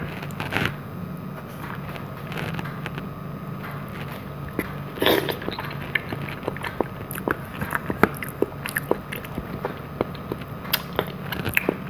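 Close, intimate chewing and soft biting of boiled banana with chocolate and strawberry jelly, moist squishy mouth sounds with occasional small crackles, steady and quiet with no talk.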